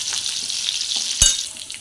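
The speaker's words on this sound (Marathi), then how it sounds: "5-6 लसूण आणि 6-7 हिरव्या मिरच्या घेतल्यात मी कापून, फोडणीत घालायचं आहे।" Garlic and green chillies frying in hot tempering oil for a green moong amti, a steady close sizzle with one sharp crackling burst partway through, no voices.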